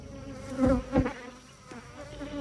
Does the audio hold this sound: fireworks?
no